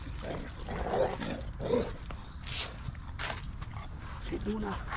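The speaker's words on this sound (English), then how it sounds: "Oh, he's barking at you." A Vizsla puppy barks a few times in short bursts close by at a dog park, with people talking and moving around it.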